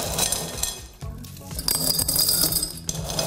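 Small stones clink and rattle against a glass jar, a busy run of bright taps with a brief pause, close and fairly quiet.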